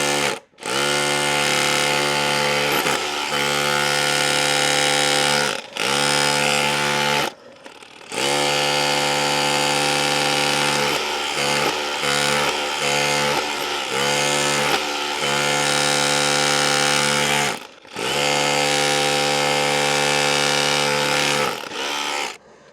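A DeWalt DCH263R2 cordless rotary hammer drills into a wall during demolition, a loud, continuous hammering whine that runs in long bursts separated by brief pauses, close and dominant throughout.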